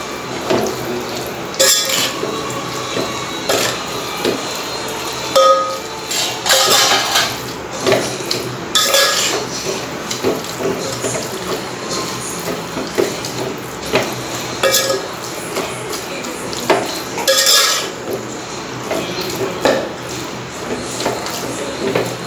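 A beef kebab mixture of minced beef with vinegar and a little water is stirred in a metal pot, with repeated scraping and clinking of a spoon against the pot. Louder knocks land irregularly through a long stretch of close stirring.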